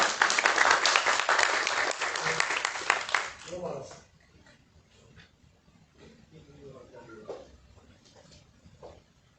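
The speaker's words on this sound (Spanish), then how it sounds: "quiero dar un aplauso al congresista César Revilla" Audience applause at a parliamentary presentation honouring a congressman, loud dense clapping for about three seconds that quickly dies away into a quiet room with faint murmurs and light movement.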